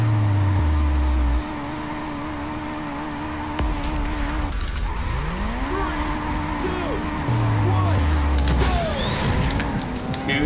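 Race cars in Burnout 2: Point of Impact launching at the start of a Pacific Gate Grand Prix race at Airport Terminal 3, with loud rising engine revs, shifting engine tones and tire squeals over a steady game soundtrack.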